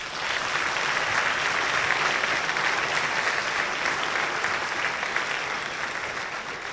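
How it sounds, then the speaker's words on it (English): Sustained applause from an audience at a student awards convocation, dense steady clapping throughout, full and close with no voices standing out. "Please join me in giving all of our students another round of applause."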